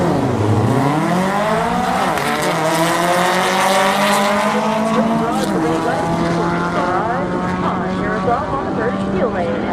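A 1957 VW Manx drag car runs down the strip at a points race, its engine loud and close as it climbs through rising revs and gear changes, with an announcer talking over it.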